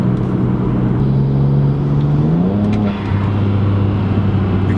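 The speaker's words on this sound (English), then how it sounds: "You can hear the blow off valve and the exhaust at the same time." A BMW's exhaust drones loudly and steadily up close, its engine note holding and then shifting pitch as it revs, with a brief dip where the blow-off valve vents.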